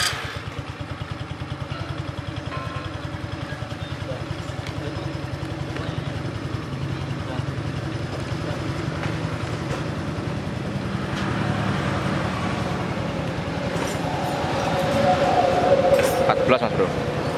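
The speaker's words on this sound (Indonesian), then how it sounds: "Mas Bro, ini kondisi mesin langsam ya." A Kawasaki Kaze motorcycle engine idles steadily close by in a workshop, a continuous low putter that rises slightly toward the end, with someone talking over it.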